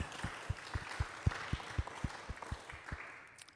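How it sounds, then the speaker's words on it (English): Congregation clapping at a church informational meeting, a sparse and fairly faint round of applause with distinct, separate hand claps at an irregular pace that thins out toward the end. "That deserves a round of applause."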